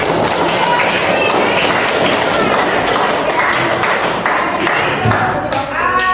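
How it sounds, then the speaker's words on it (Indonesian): A classroom audience claps after a group presentation, continuous dense applause with scattered voices and a few thuds mixed in, loud and near throughout. "Tepuk tangannya"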